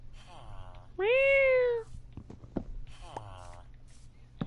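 A cat in the video game Minecraft gives one clear, loud drawn-out meow, with softer mewing chirps before and after over quiet background sounds.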